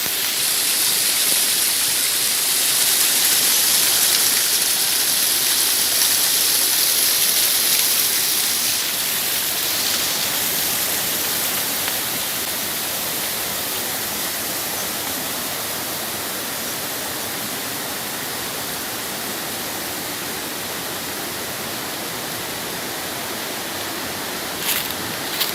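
A small babbling stream near Da Han waterfall in Dong Nai province rushes in a continuous broadband wash, loud and close, fading slightly later on with no talk.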